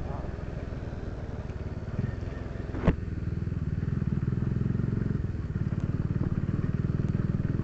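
A motorbike ridden off-road over a rough, dangerous road in Bhaktapur, its engine droning steadily up close, with a sharp clatter near the middle as it jolts over the surface while someone talks throughout.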